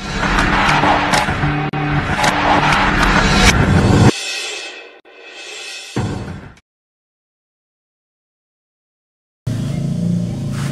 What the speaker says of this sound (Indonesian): Jadi makanya saat di starter ini nerelek, suara kasar